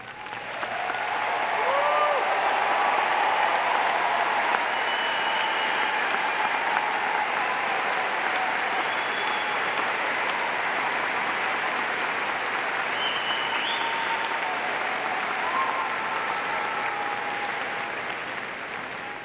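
A large audience at the Florida State University spring commencement ceremony breaks into sustained applause for graduating honors students, a dense, steady wash of clapping that holds loud for nearly twenty seconds before easing slightly at the end.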